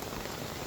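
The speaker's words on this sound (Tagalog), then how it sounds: "Eh ngayon biglang bumuhos yung ulan dito sa may ano." Heavy rain pouring down near a waterfall in San Felipe, Zambales, a dense, steady hiss of drops on surfaces, close and unbroken, with no voices.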